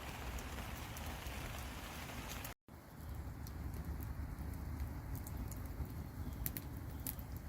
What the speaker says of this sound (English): Rain can't stop us.